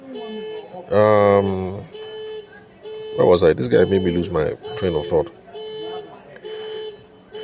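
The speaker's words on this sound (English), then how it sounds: "I don't know why the guy's car alarm is just going off." A car alarm going off outside sounds a repeating electronic tone, steady and fairly prominent, while someone talks over it indoors.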